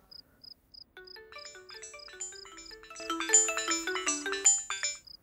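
A phone ringtone rings in a quiet room during a Kannada mystery thriller short film, a repeating electronic melody that starts sparse and soft, then swells into a dense, louder chiming tune with no talk over it.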